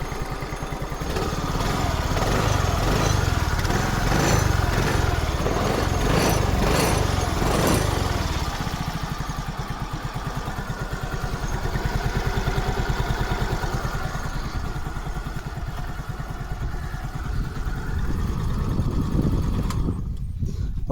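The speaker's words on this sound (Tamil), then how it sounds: "ஸோ வண்டி ஸ்டார்ட் பண்ணி காமிக்கிறேன் பாருங்கள் ஃப்ரெண்ட்ஸ், எவ்வளோ ஸ்மூத்தாக இருக்கும் வண்டி" An old motorcycle, just serviced, runs steadily after being started, its engine thrumming close and loud. A brief burst of revving comes early, then a smooth, even idle continues until it cuts off at the end.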